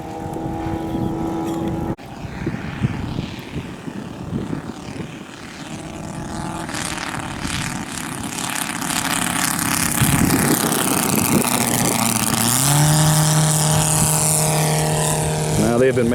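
A one-of-a-kind propeller airplane at an air show in Goshen revs up, its engine drone climbing steadily louder and higher in pitch, with a tone that holds near the end.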